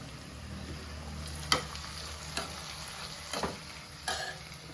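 Dried fish frying steadily in a pan, a continuous sizzle with several distinct scraping stirs of a utensil spaced through it, close and alone with no voices.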